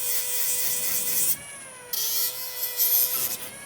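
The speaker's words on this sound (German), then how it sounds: "jetzt kommt mein neues Lieblingstool zum Einsatz, um das alles zu entgraten" A deburring tool grinds along freshly cut, clamped metal parts, a loud high buzzing rasp that runs steadily, cuts out briefly, then resumes with shifting pitch as it moves over edges.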